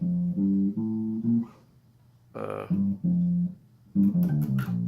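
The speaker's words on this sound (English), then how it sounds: "He just takes the major pentatonic, breaks it down into like a triplet type of lick." Bass guitar plays a major pentatonic triplet lick from a gospel tune, short bursts of close, low notes broken by a brief noisy scrape and a pause.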